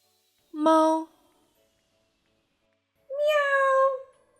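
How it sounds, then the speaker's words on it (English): Two clear, fairly loud cat meows separated by a pause of about two seconds; the second is longer and drawn out, and no background noise is heard between the calls. "Meow,"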